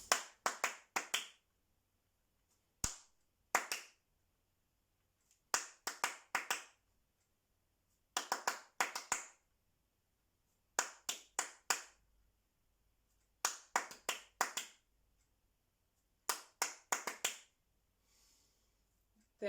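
Hand claps in short rhythmic bursts during a music lesson on rhythm and body percussion, each pattern of several crisp claps separated by pauses, close and clear with no talking.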